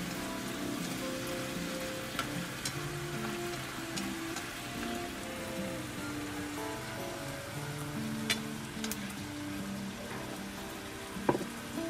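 Rain falling outdoors and blowing in, a steady dense patter and hiss with occasional sharper drops, even and continuous throughout with no talk.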